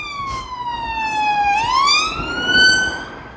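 A loud siren glides slowly down, then sweeps back up in a long wail, strong and near, over a faint background rumble.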